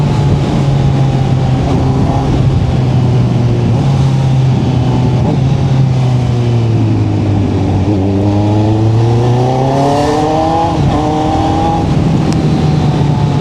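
A 2025 Honda CB1000 Hornet's engine revs hard and loud up through the gears, pitch climbing then dropping at each shift, close and continuous with no talk over it.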